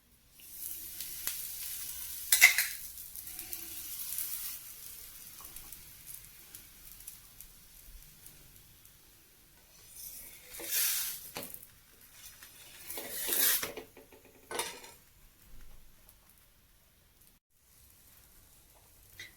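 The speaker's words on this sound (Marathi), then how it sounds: "मीडियम गॅसवरती चांगला खरपूस असा आपल्याला पराठा भाजून घ्यायचा आहे." A potato paratha roasts with oil on a hot tawa over medium heat, a faint crackling sizzle that swells in several louder bursts and fades between them, with no voices.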